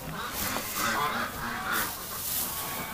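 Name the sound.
geese honking in a goose shed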